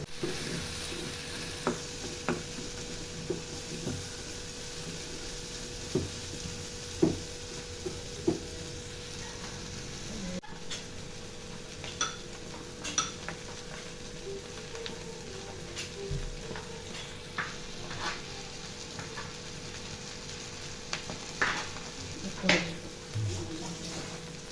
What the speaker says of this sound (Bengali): আবারও আমি টানা নাড়তে থাকবো।